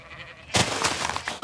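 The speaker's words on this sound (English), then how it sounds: "I see a sheep." Sheep in an exploration video game giving a single loud bleat that starts abruptly partway through, set over a soft background hum.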